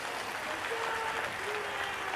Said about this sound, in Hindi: एक बार जोरदार ताली बजाओ इन सनातन अवलंबियों को